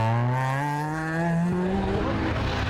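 Honda Civic rally car engine on a tarmac rally stage near Killarney, a steady close drone rising gradually in pitch as it accelerates, loud and alone with no voices.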